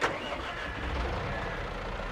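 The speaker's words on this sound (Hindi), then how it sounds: "अब इस ट्रैक्टर को थोड़ा सा साइड में पार्क कर दूँ" A tractor engine in the Farming Simulator 22 video game rumbles at a low, even idle throughout the short stretch, with a brief knock at the start.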